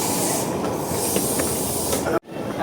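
Argo Merbabu train shunting at Jakarta Kota station: a loud, steady rumbling hiss of the train and station ambience, then a sudden sharp cutoff near the end before the noise swells back up.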